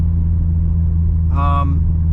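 A Nissan S14 with an RB25 engine cruising at night, a steady low engine drone from inside the cabin with a short voice passing over it midway.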